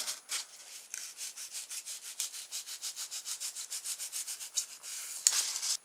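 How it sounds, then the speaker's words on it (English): A block of foam is being trimmed into a nose shape for a small chopstick-and-foam sailing boat. About twenty quick, even scraping strokes rasp close by in a steady rhythm, with no voices. "I'll just trim this block of foam so at least it's got a bit of a nose to it."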